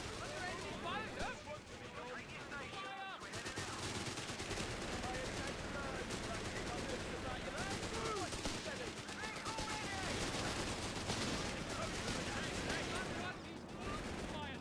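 Rapid battlefield gunfire from Company of Heroes 3: bursts of machine-gun and rifle shots rattle almost continuously under game voice lines and clamor, with a brief lull near the start.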